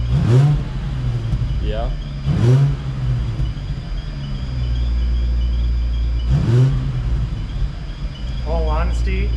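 An Infiniti G35 with an Apexi N1 exhaust revs loudly several times, each rev rising sharply and then falling back to a steady deep idle. A person speaks briefly between the revs.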